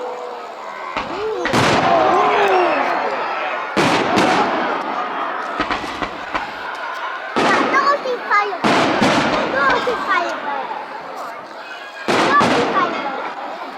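Bonfire Night fireworks at an outdoor display in Skinningrove send up loud, sharp bangs in bursts every couple of seconds, followed by crackling and whistling, with spectators talking throughout.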